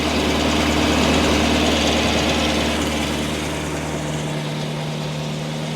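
A chopped 1950 Buick engine runs steadily on high idle, a loud, continuous rumble with a low drone that loosens and thins slightly toward the end, with no talking.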